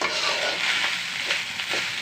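Fried rice being stirred in a hot pan for a picnic meal gives a steady, close sizzle with scraping and tossing bursts, continuous for two seconds with no talk.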